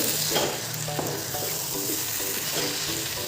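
Banana flower (mocha) being stirred in a pan, a close, steady sizzle with spatula scrapes in a loose rhythm, without talk.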